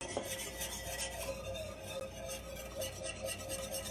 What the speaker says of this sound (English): you may have to get your whisk out and whisk those little pieces in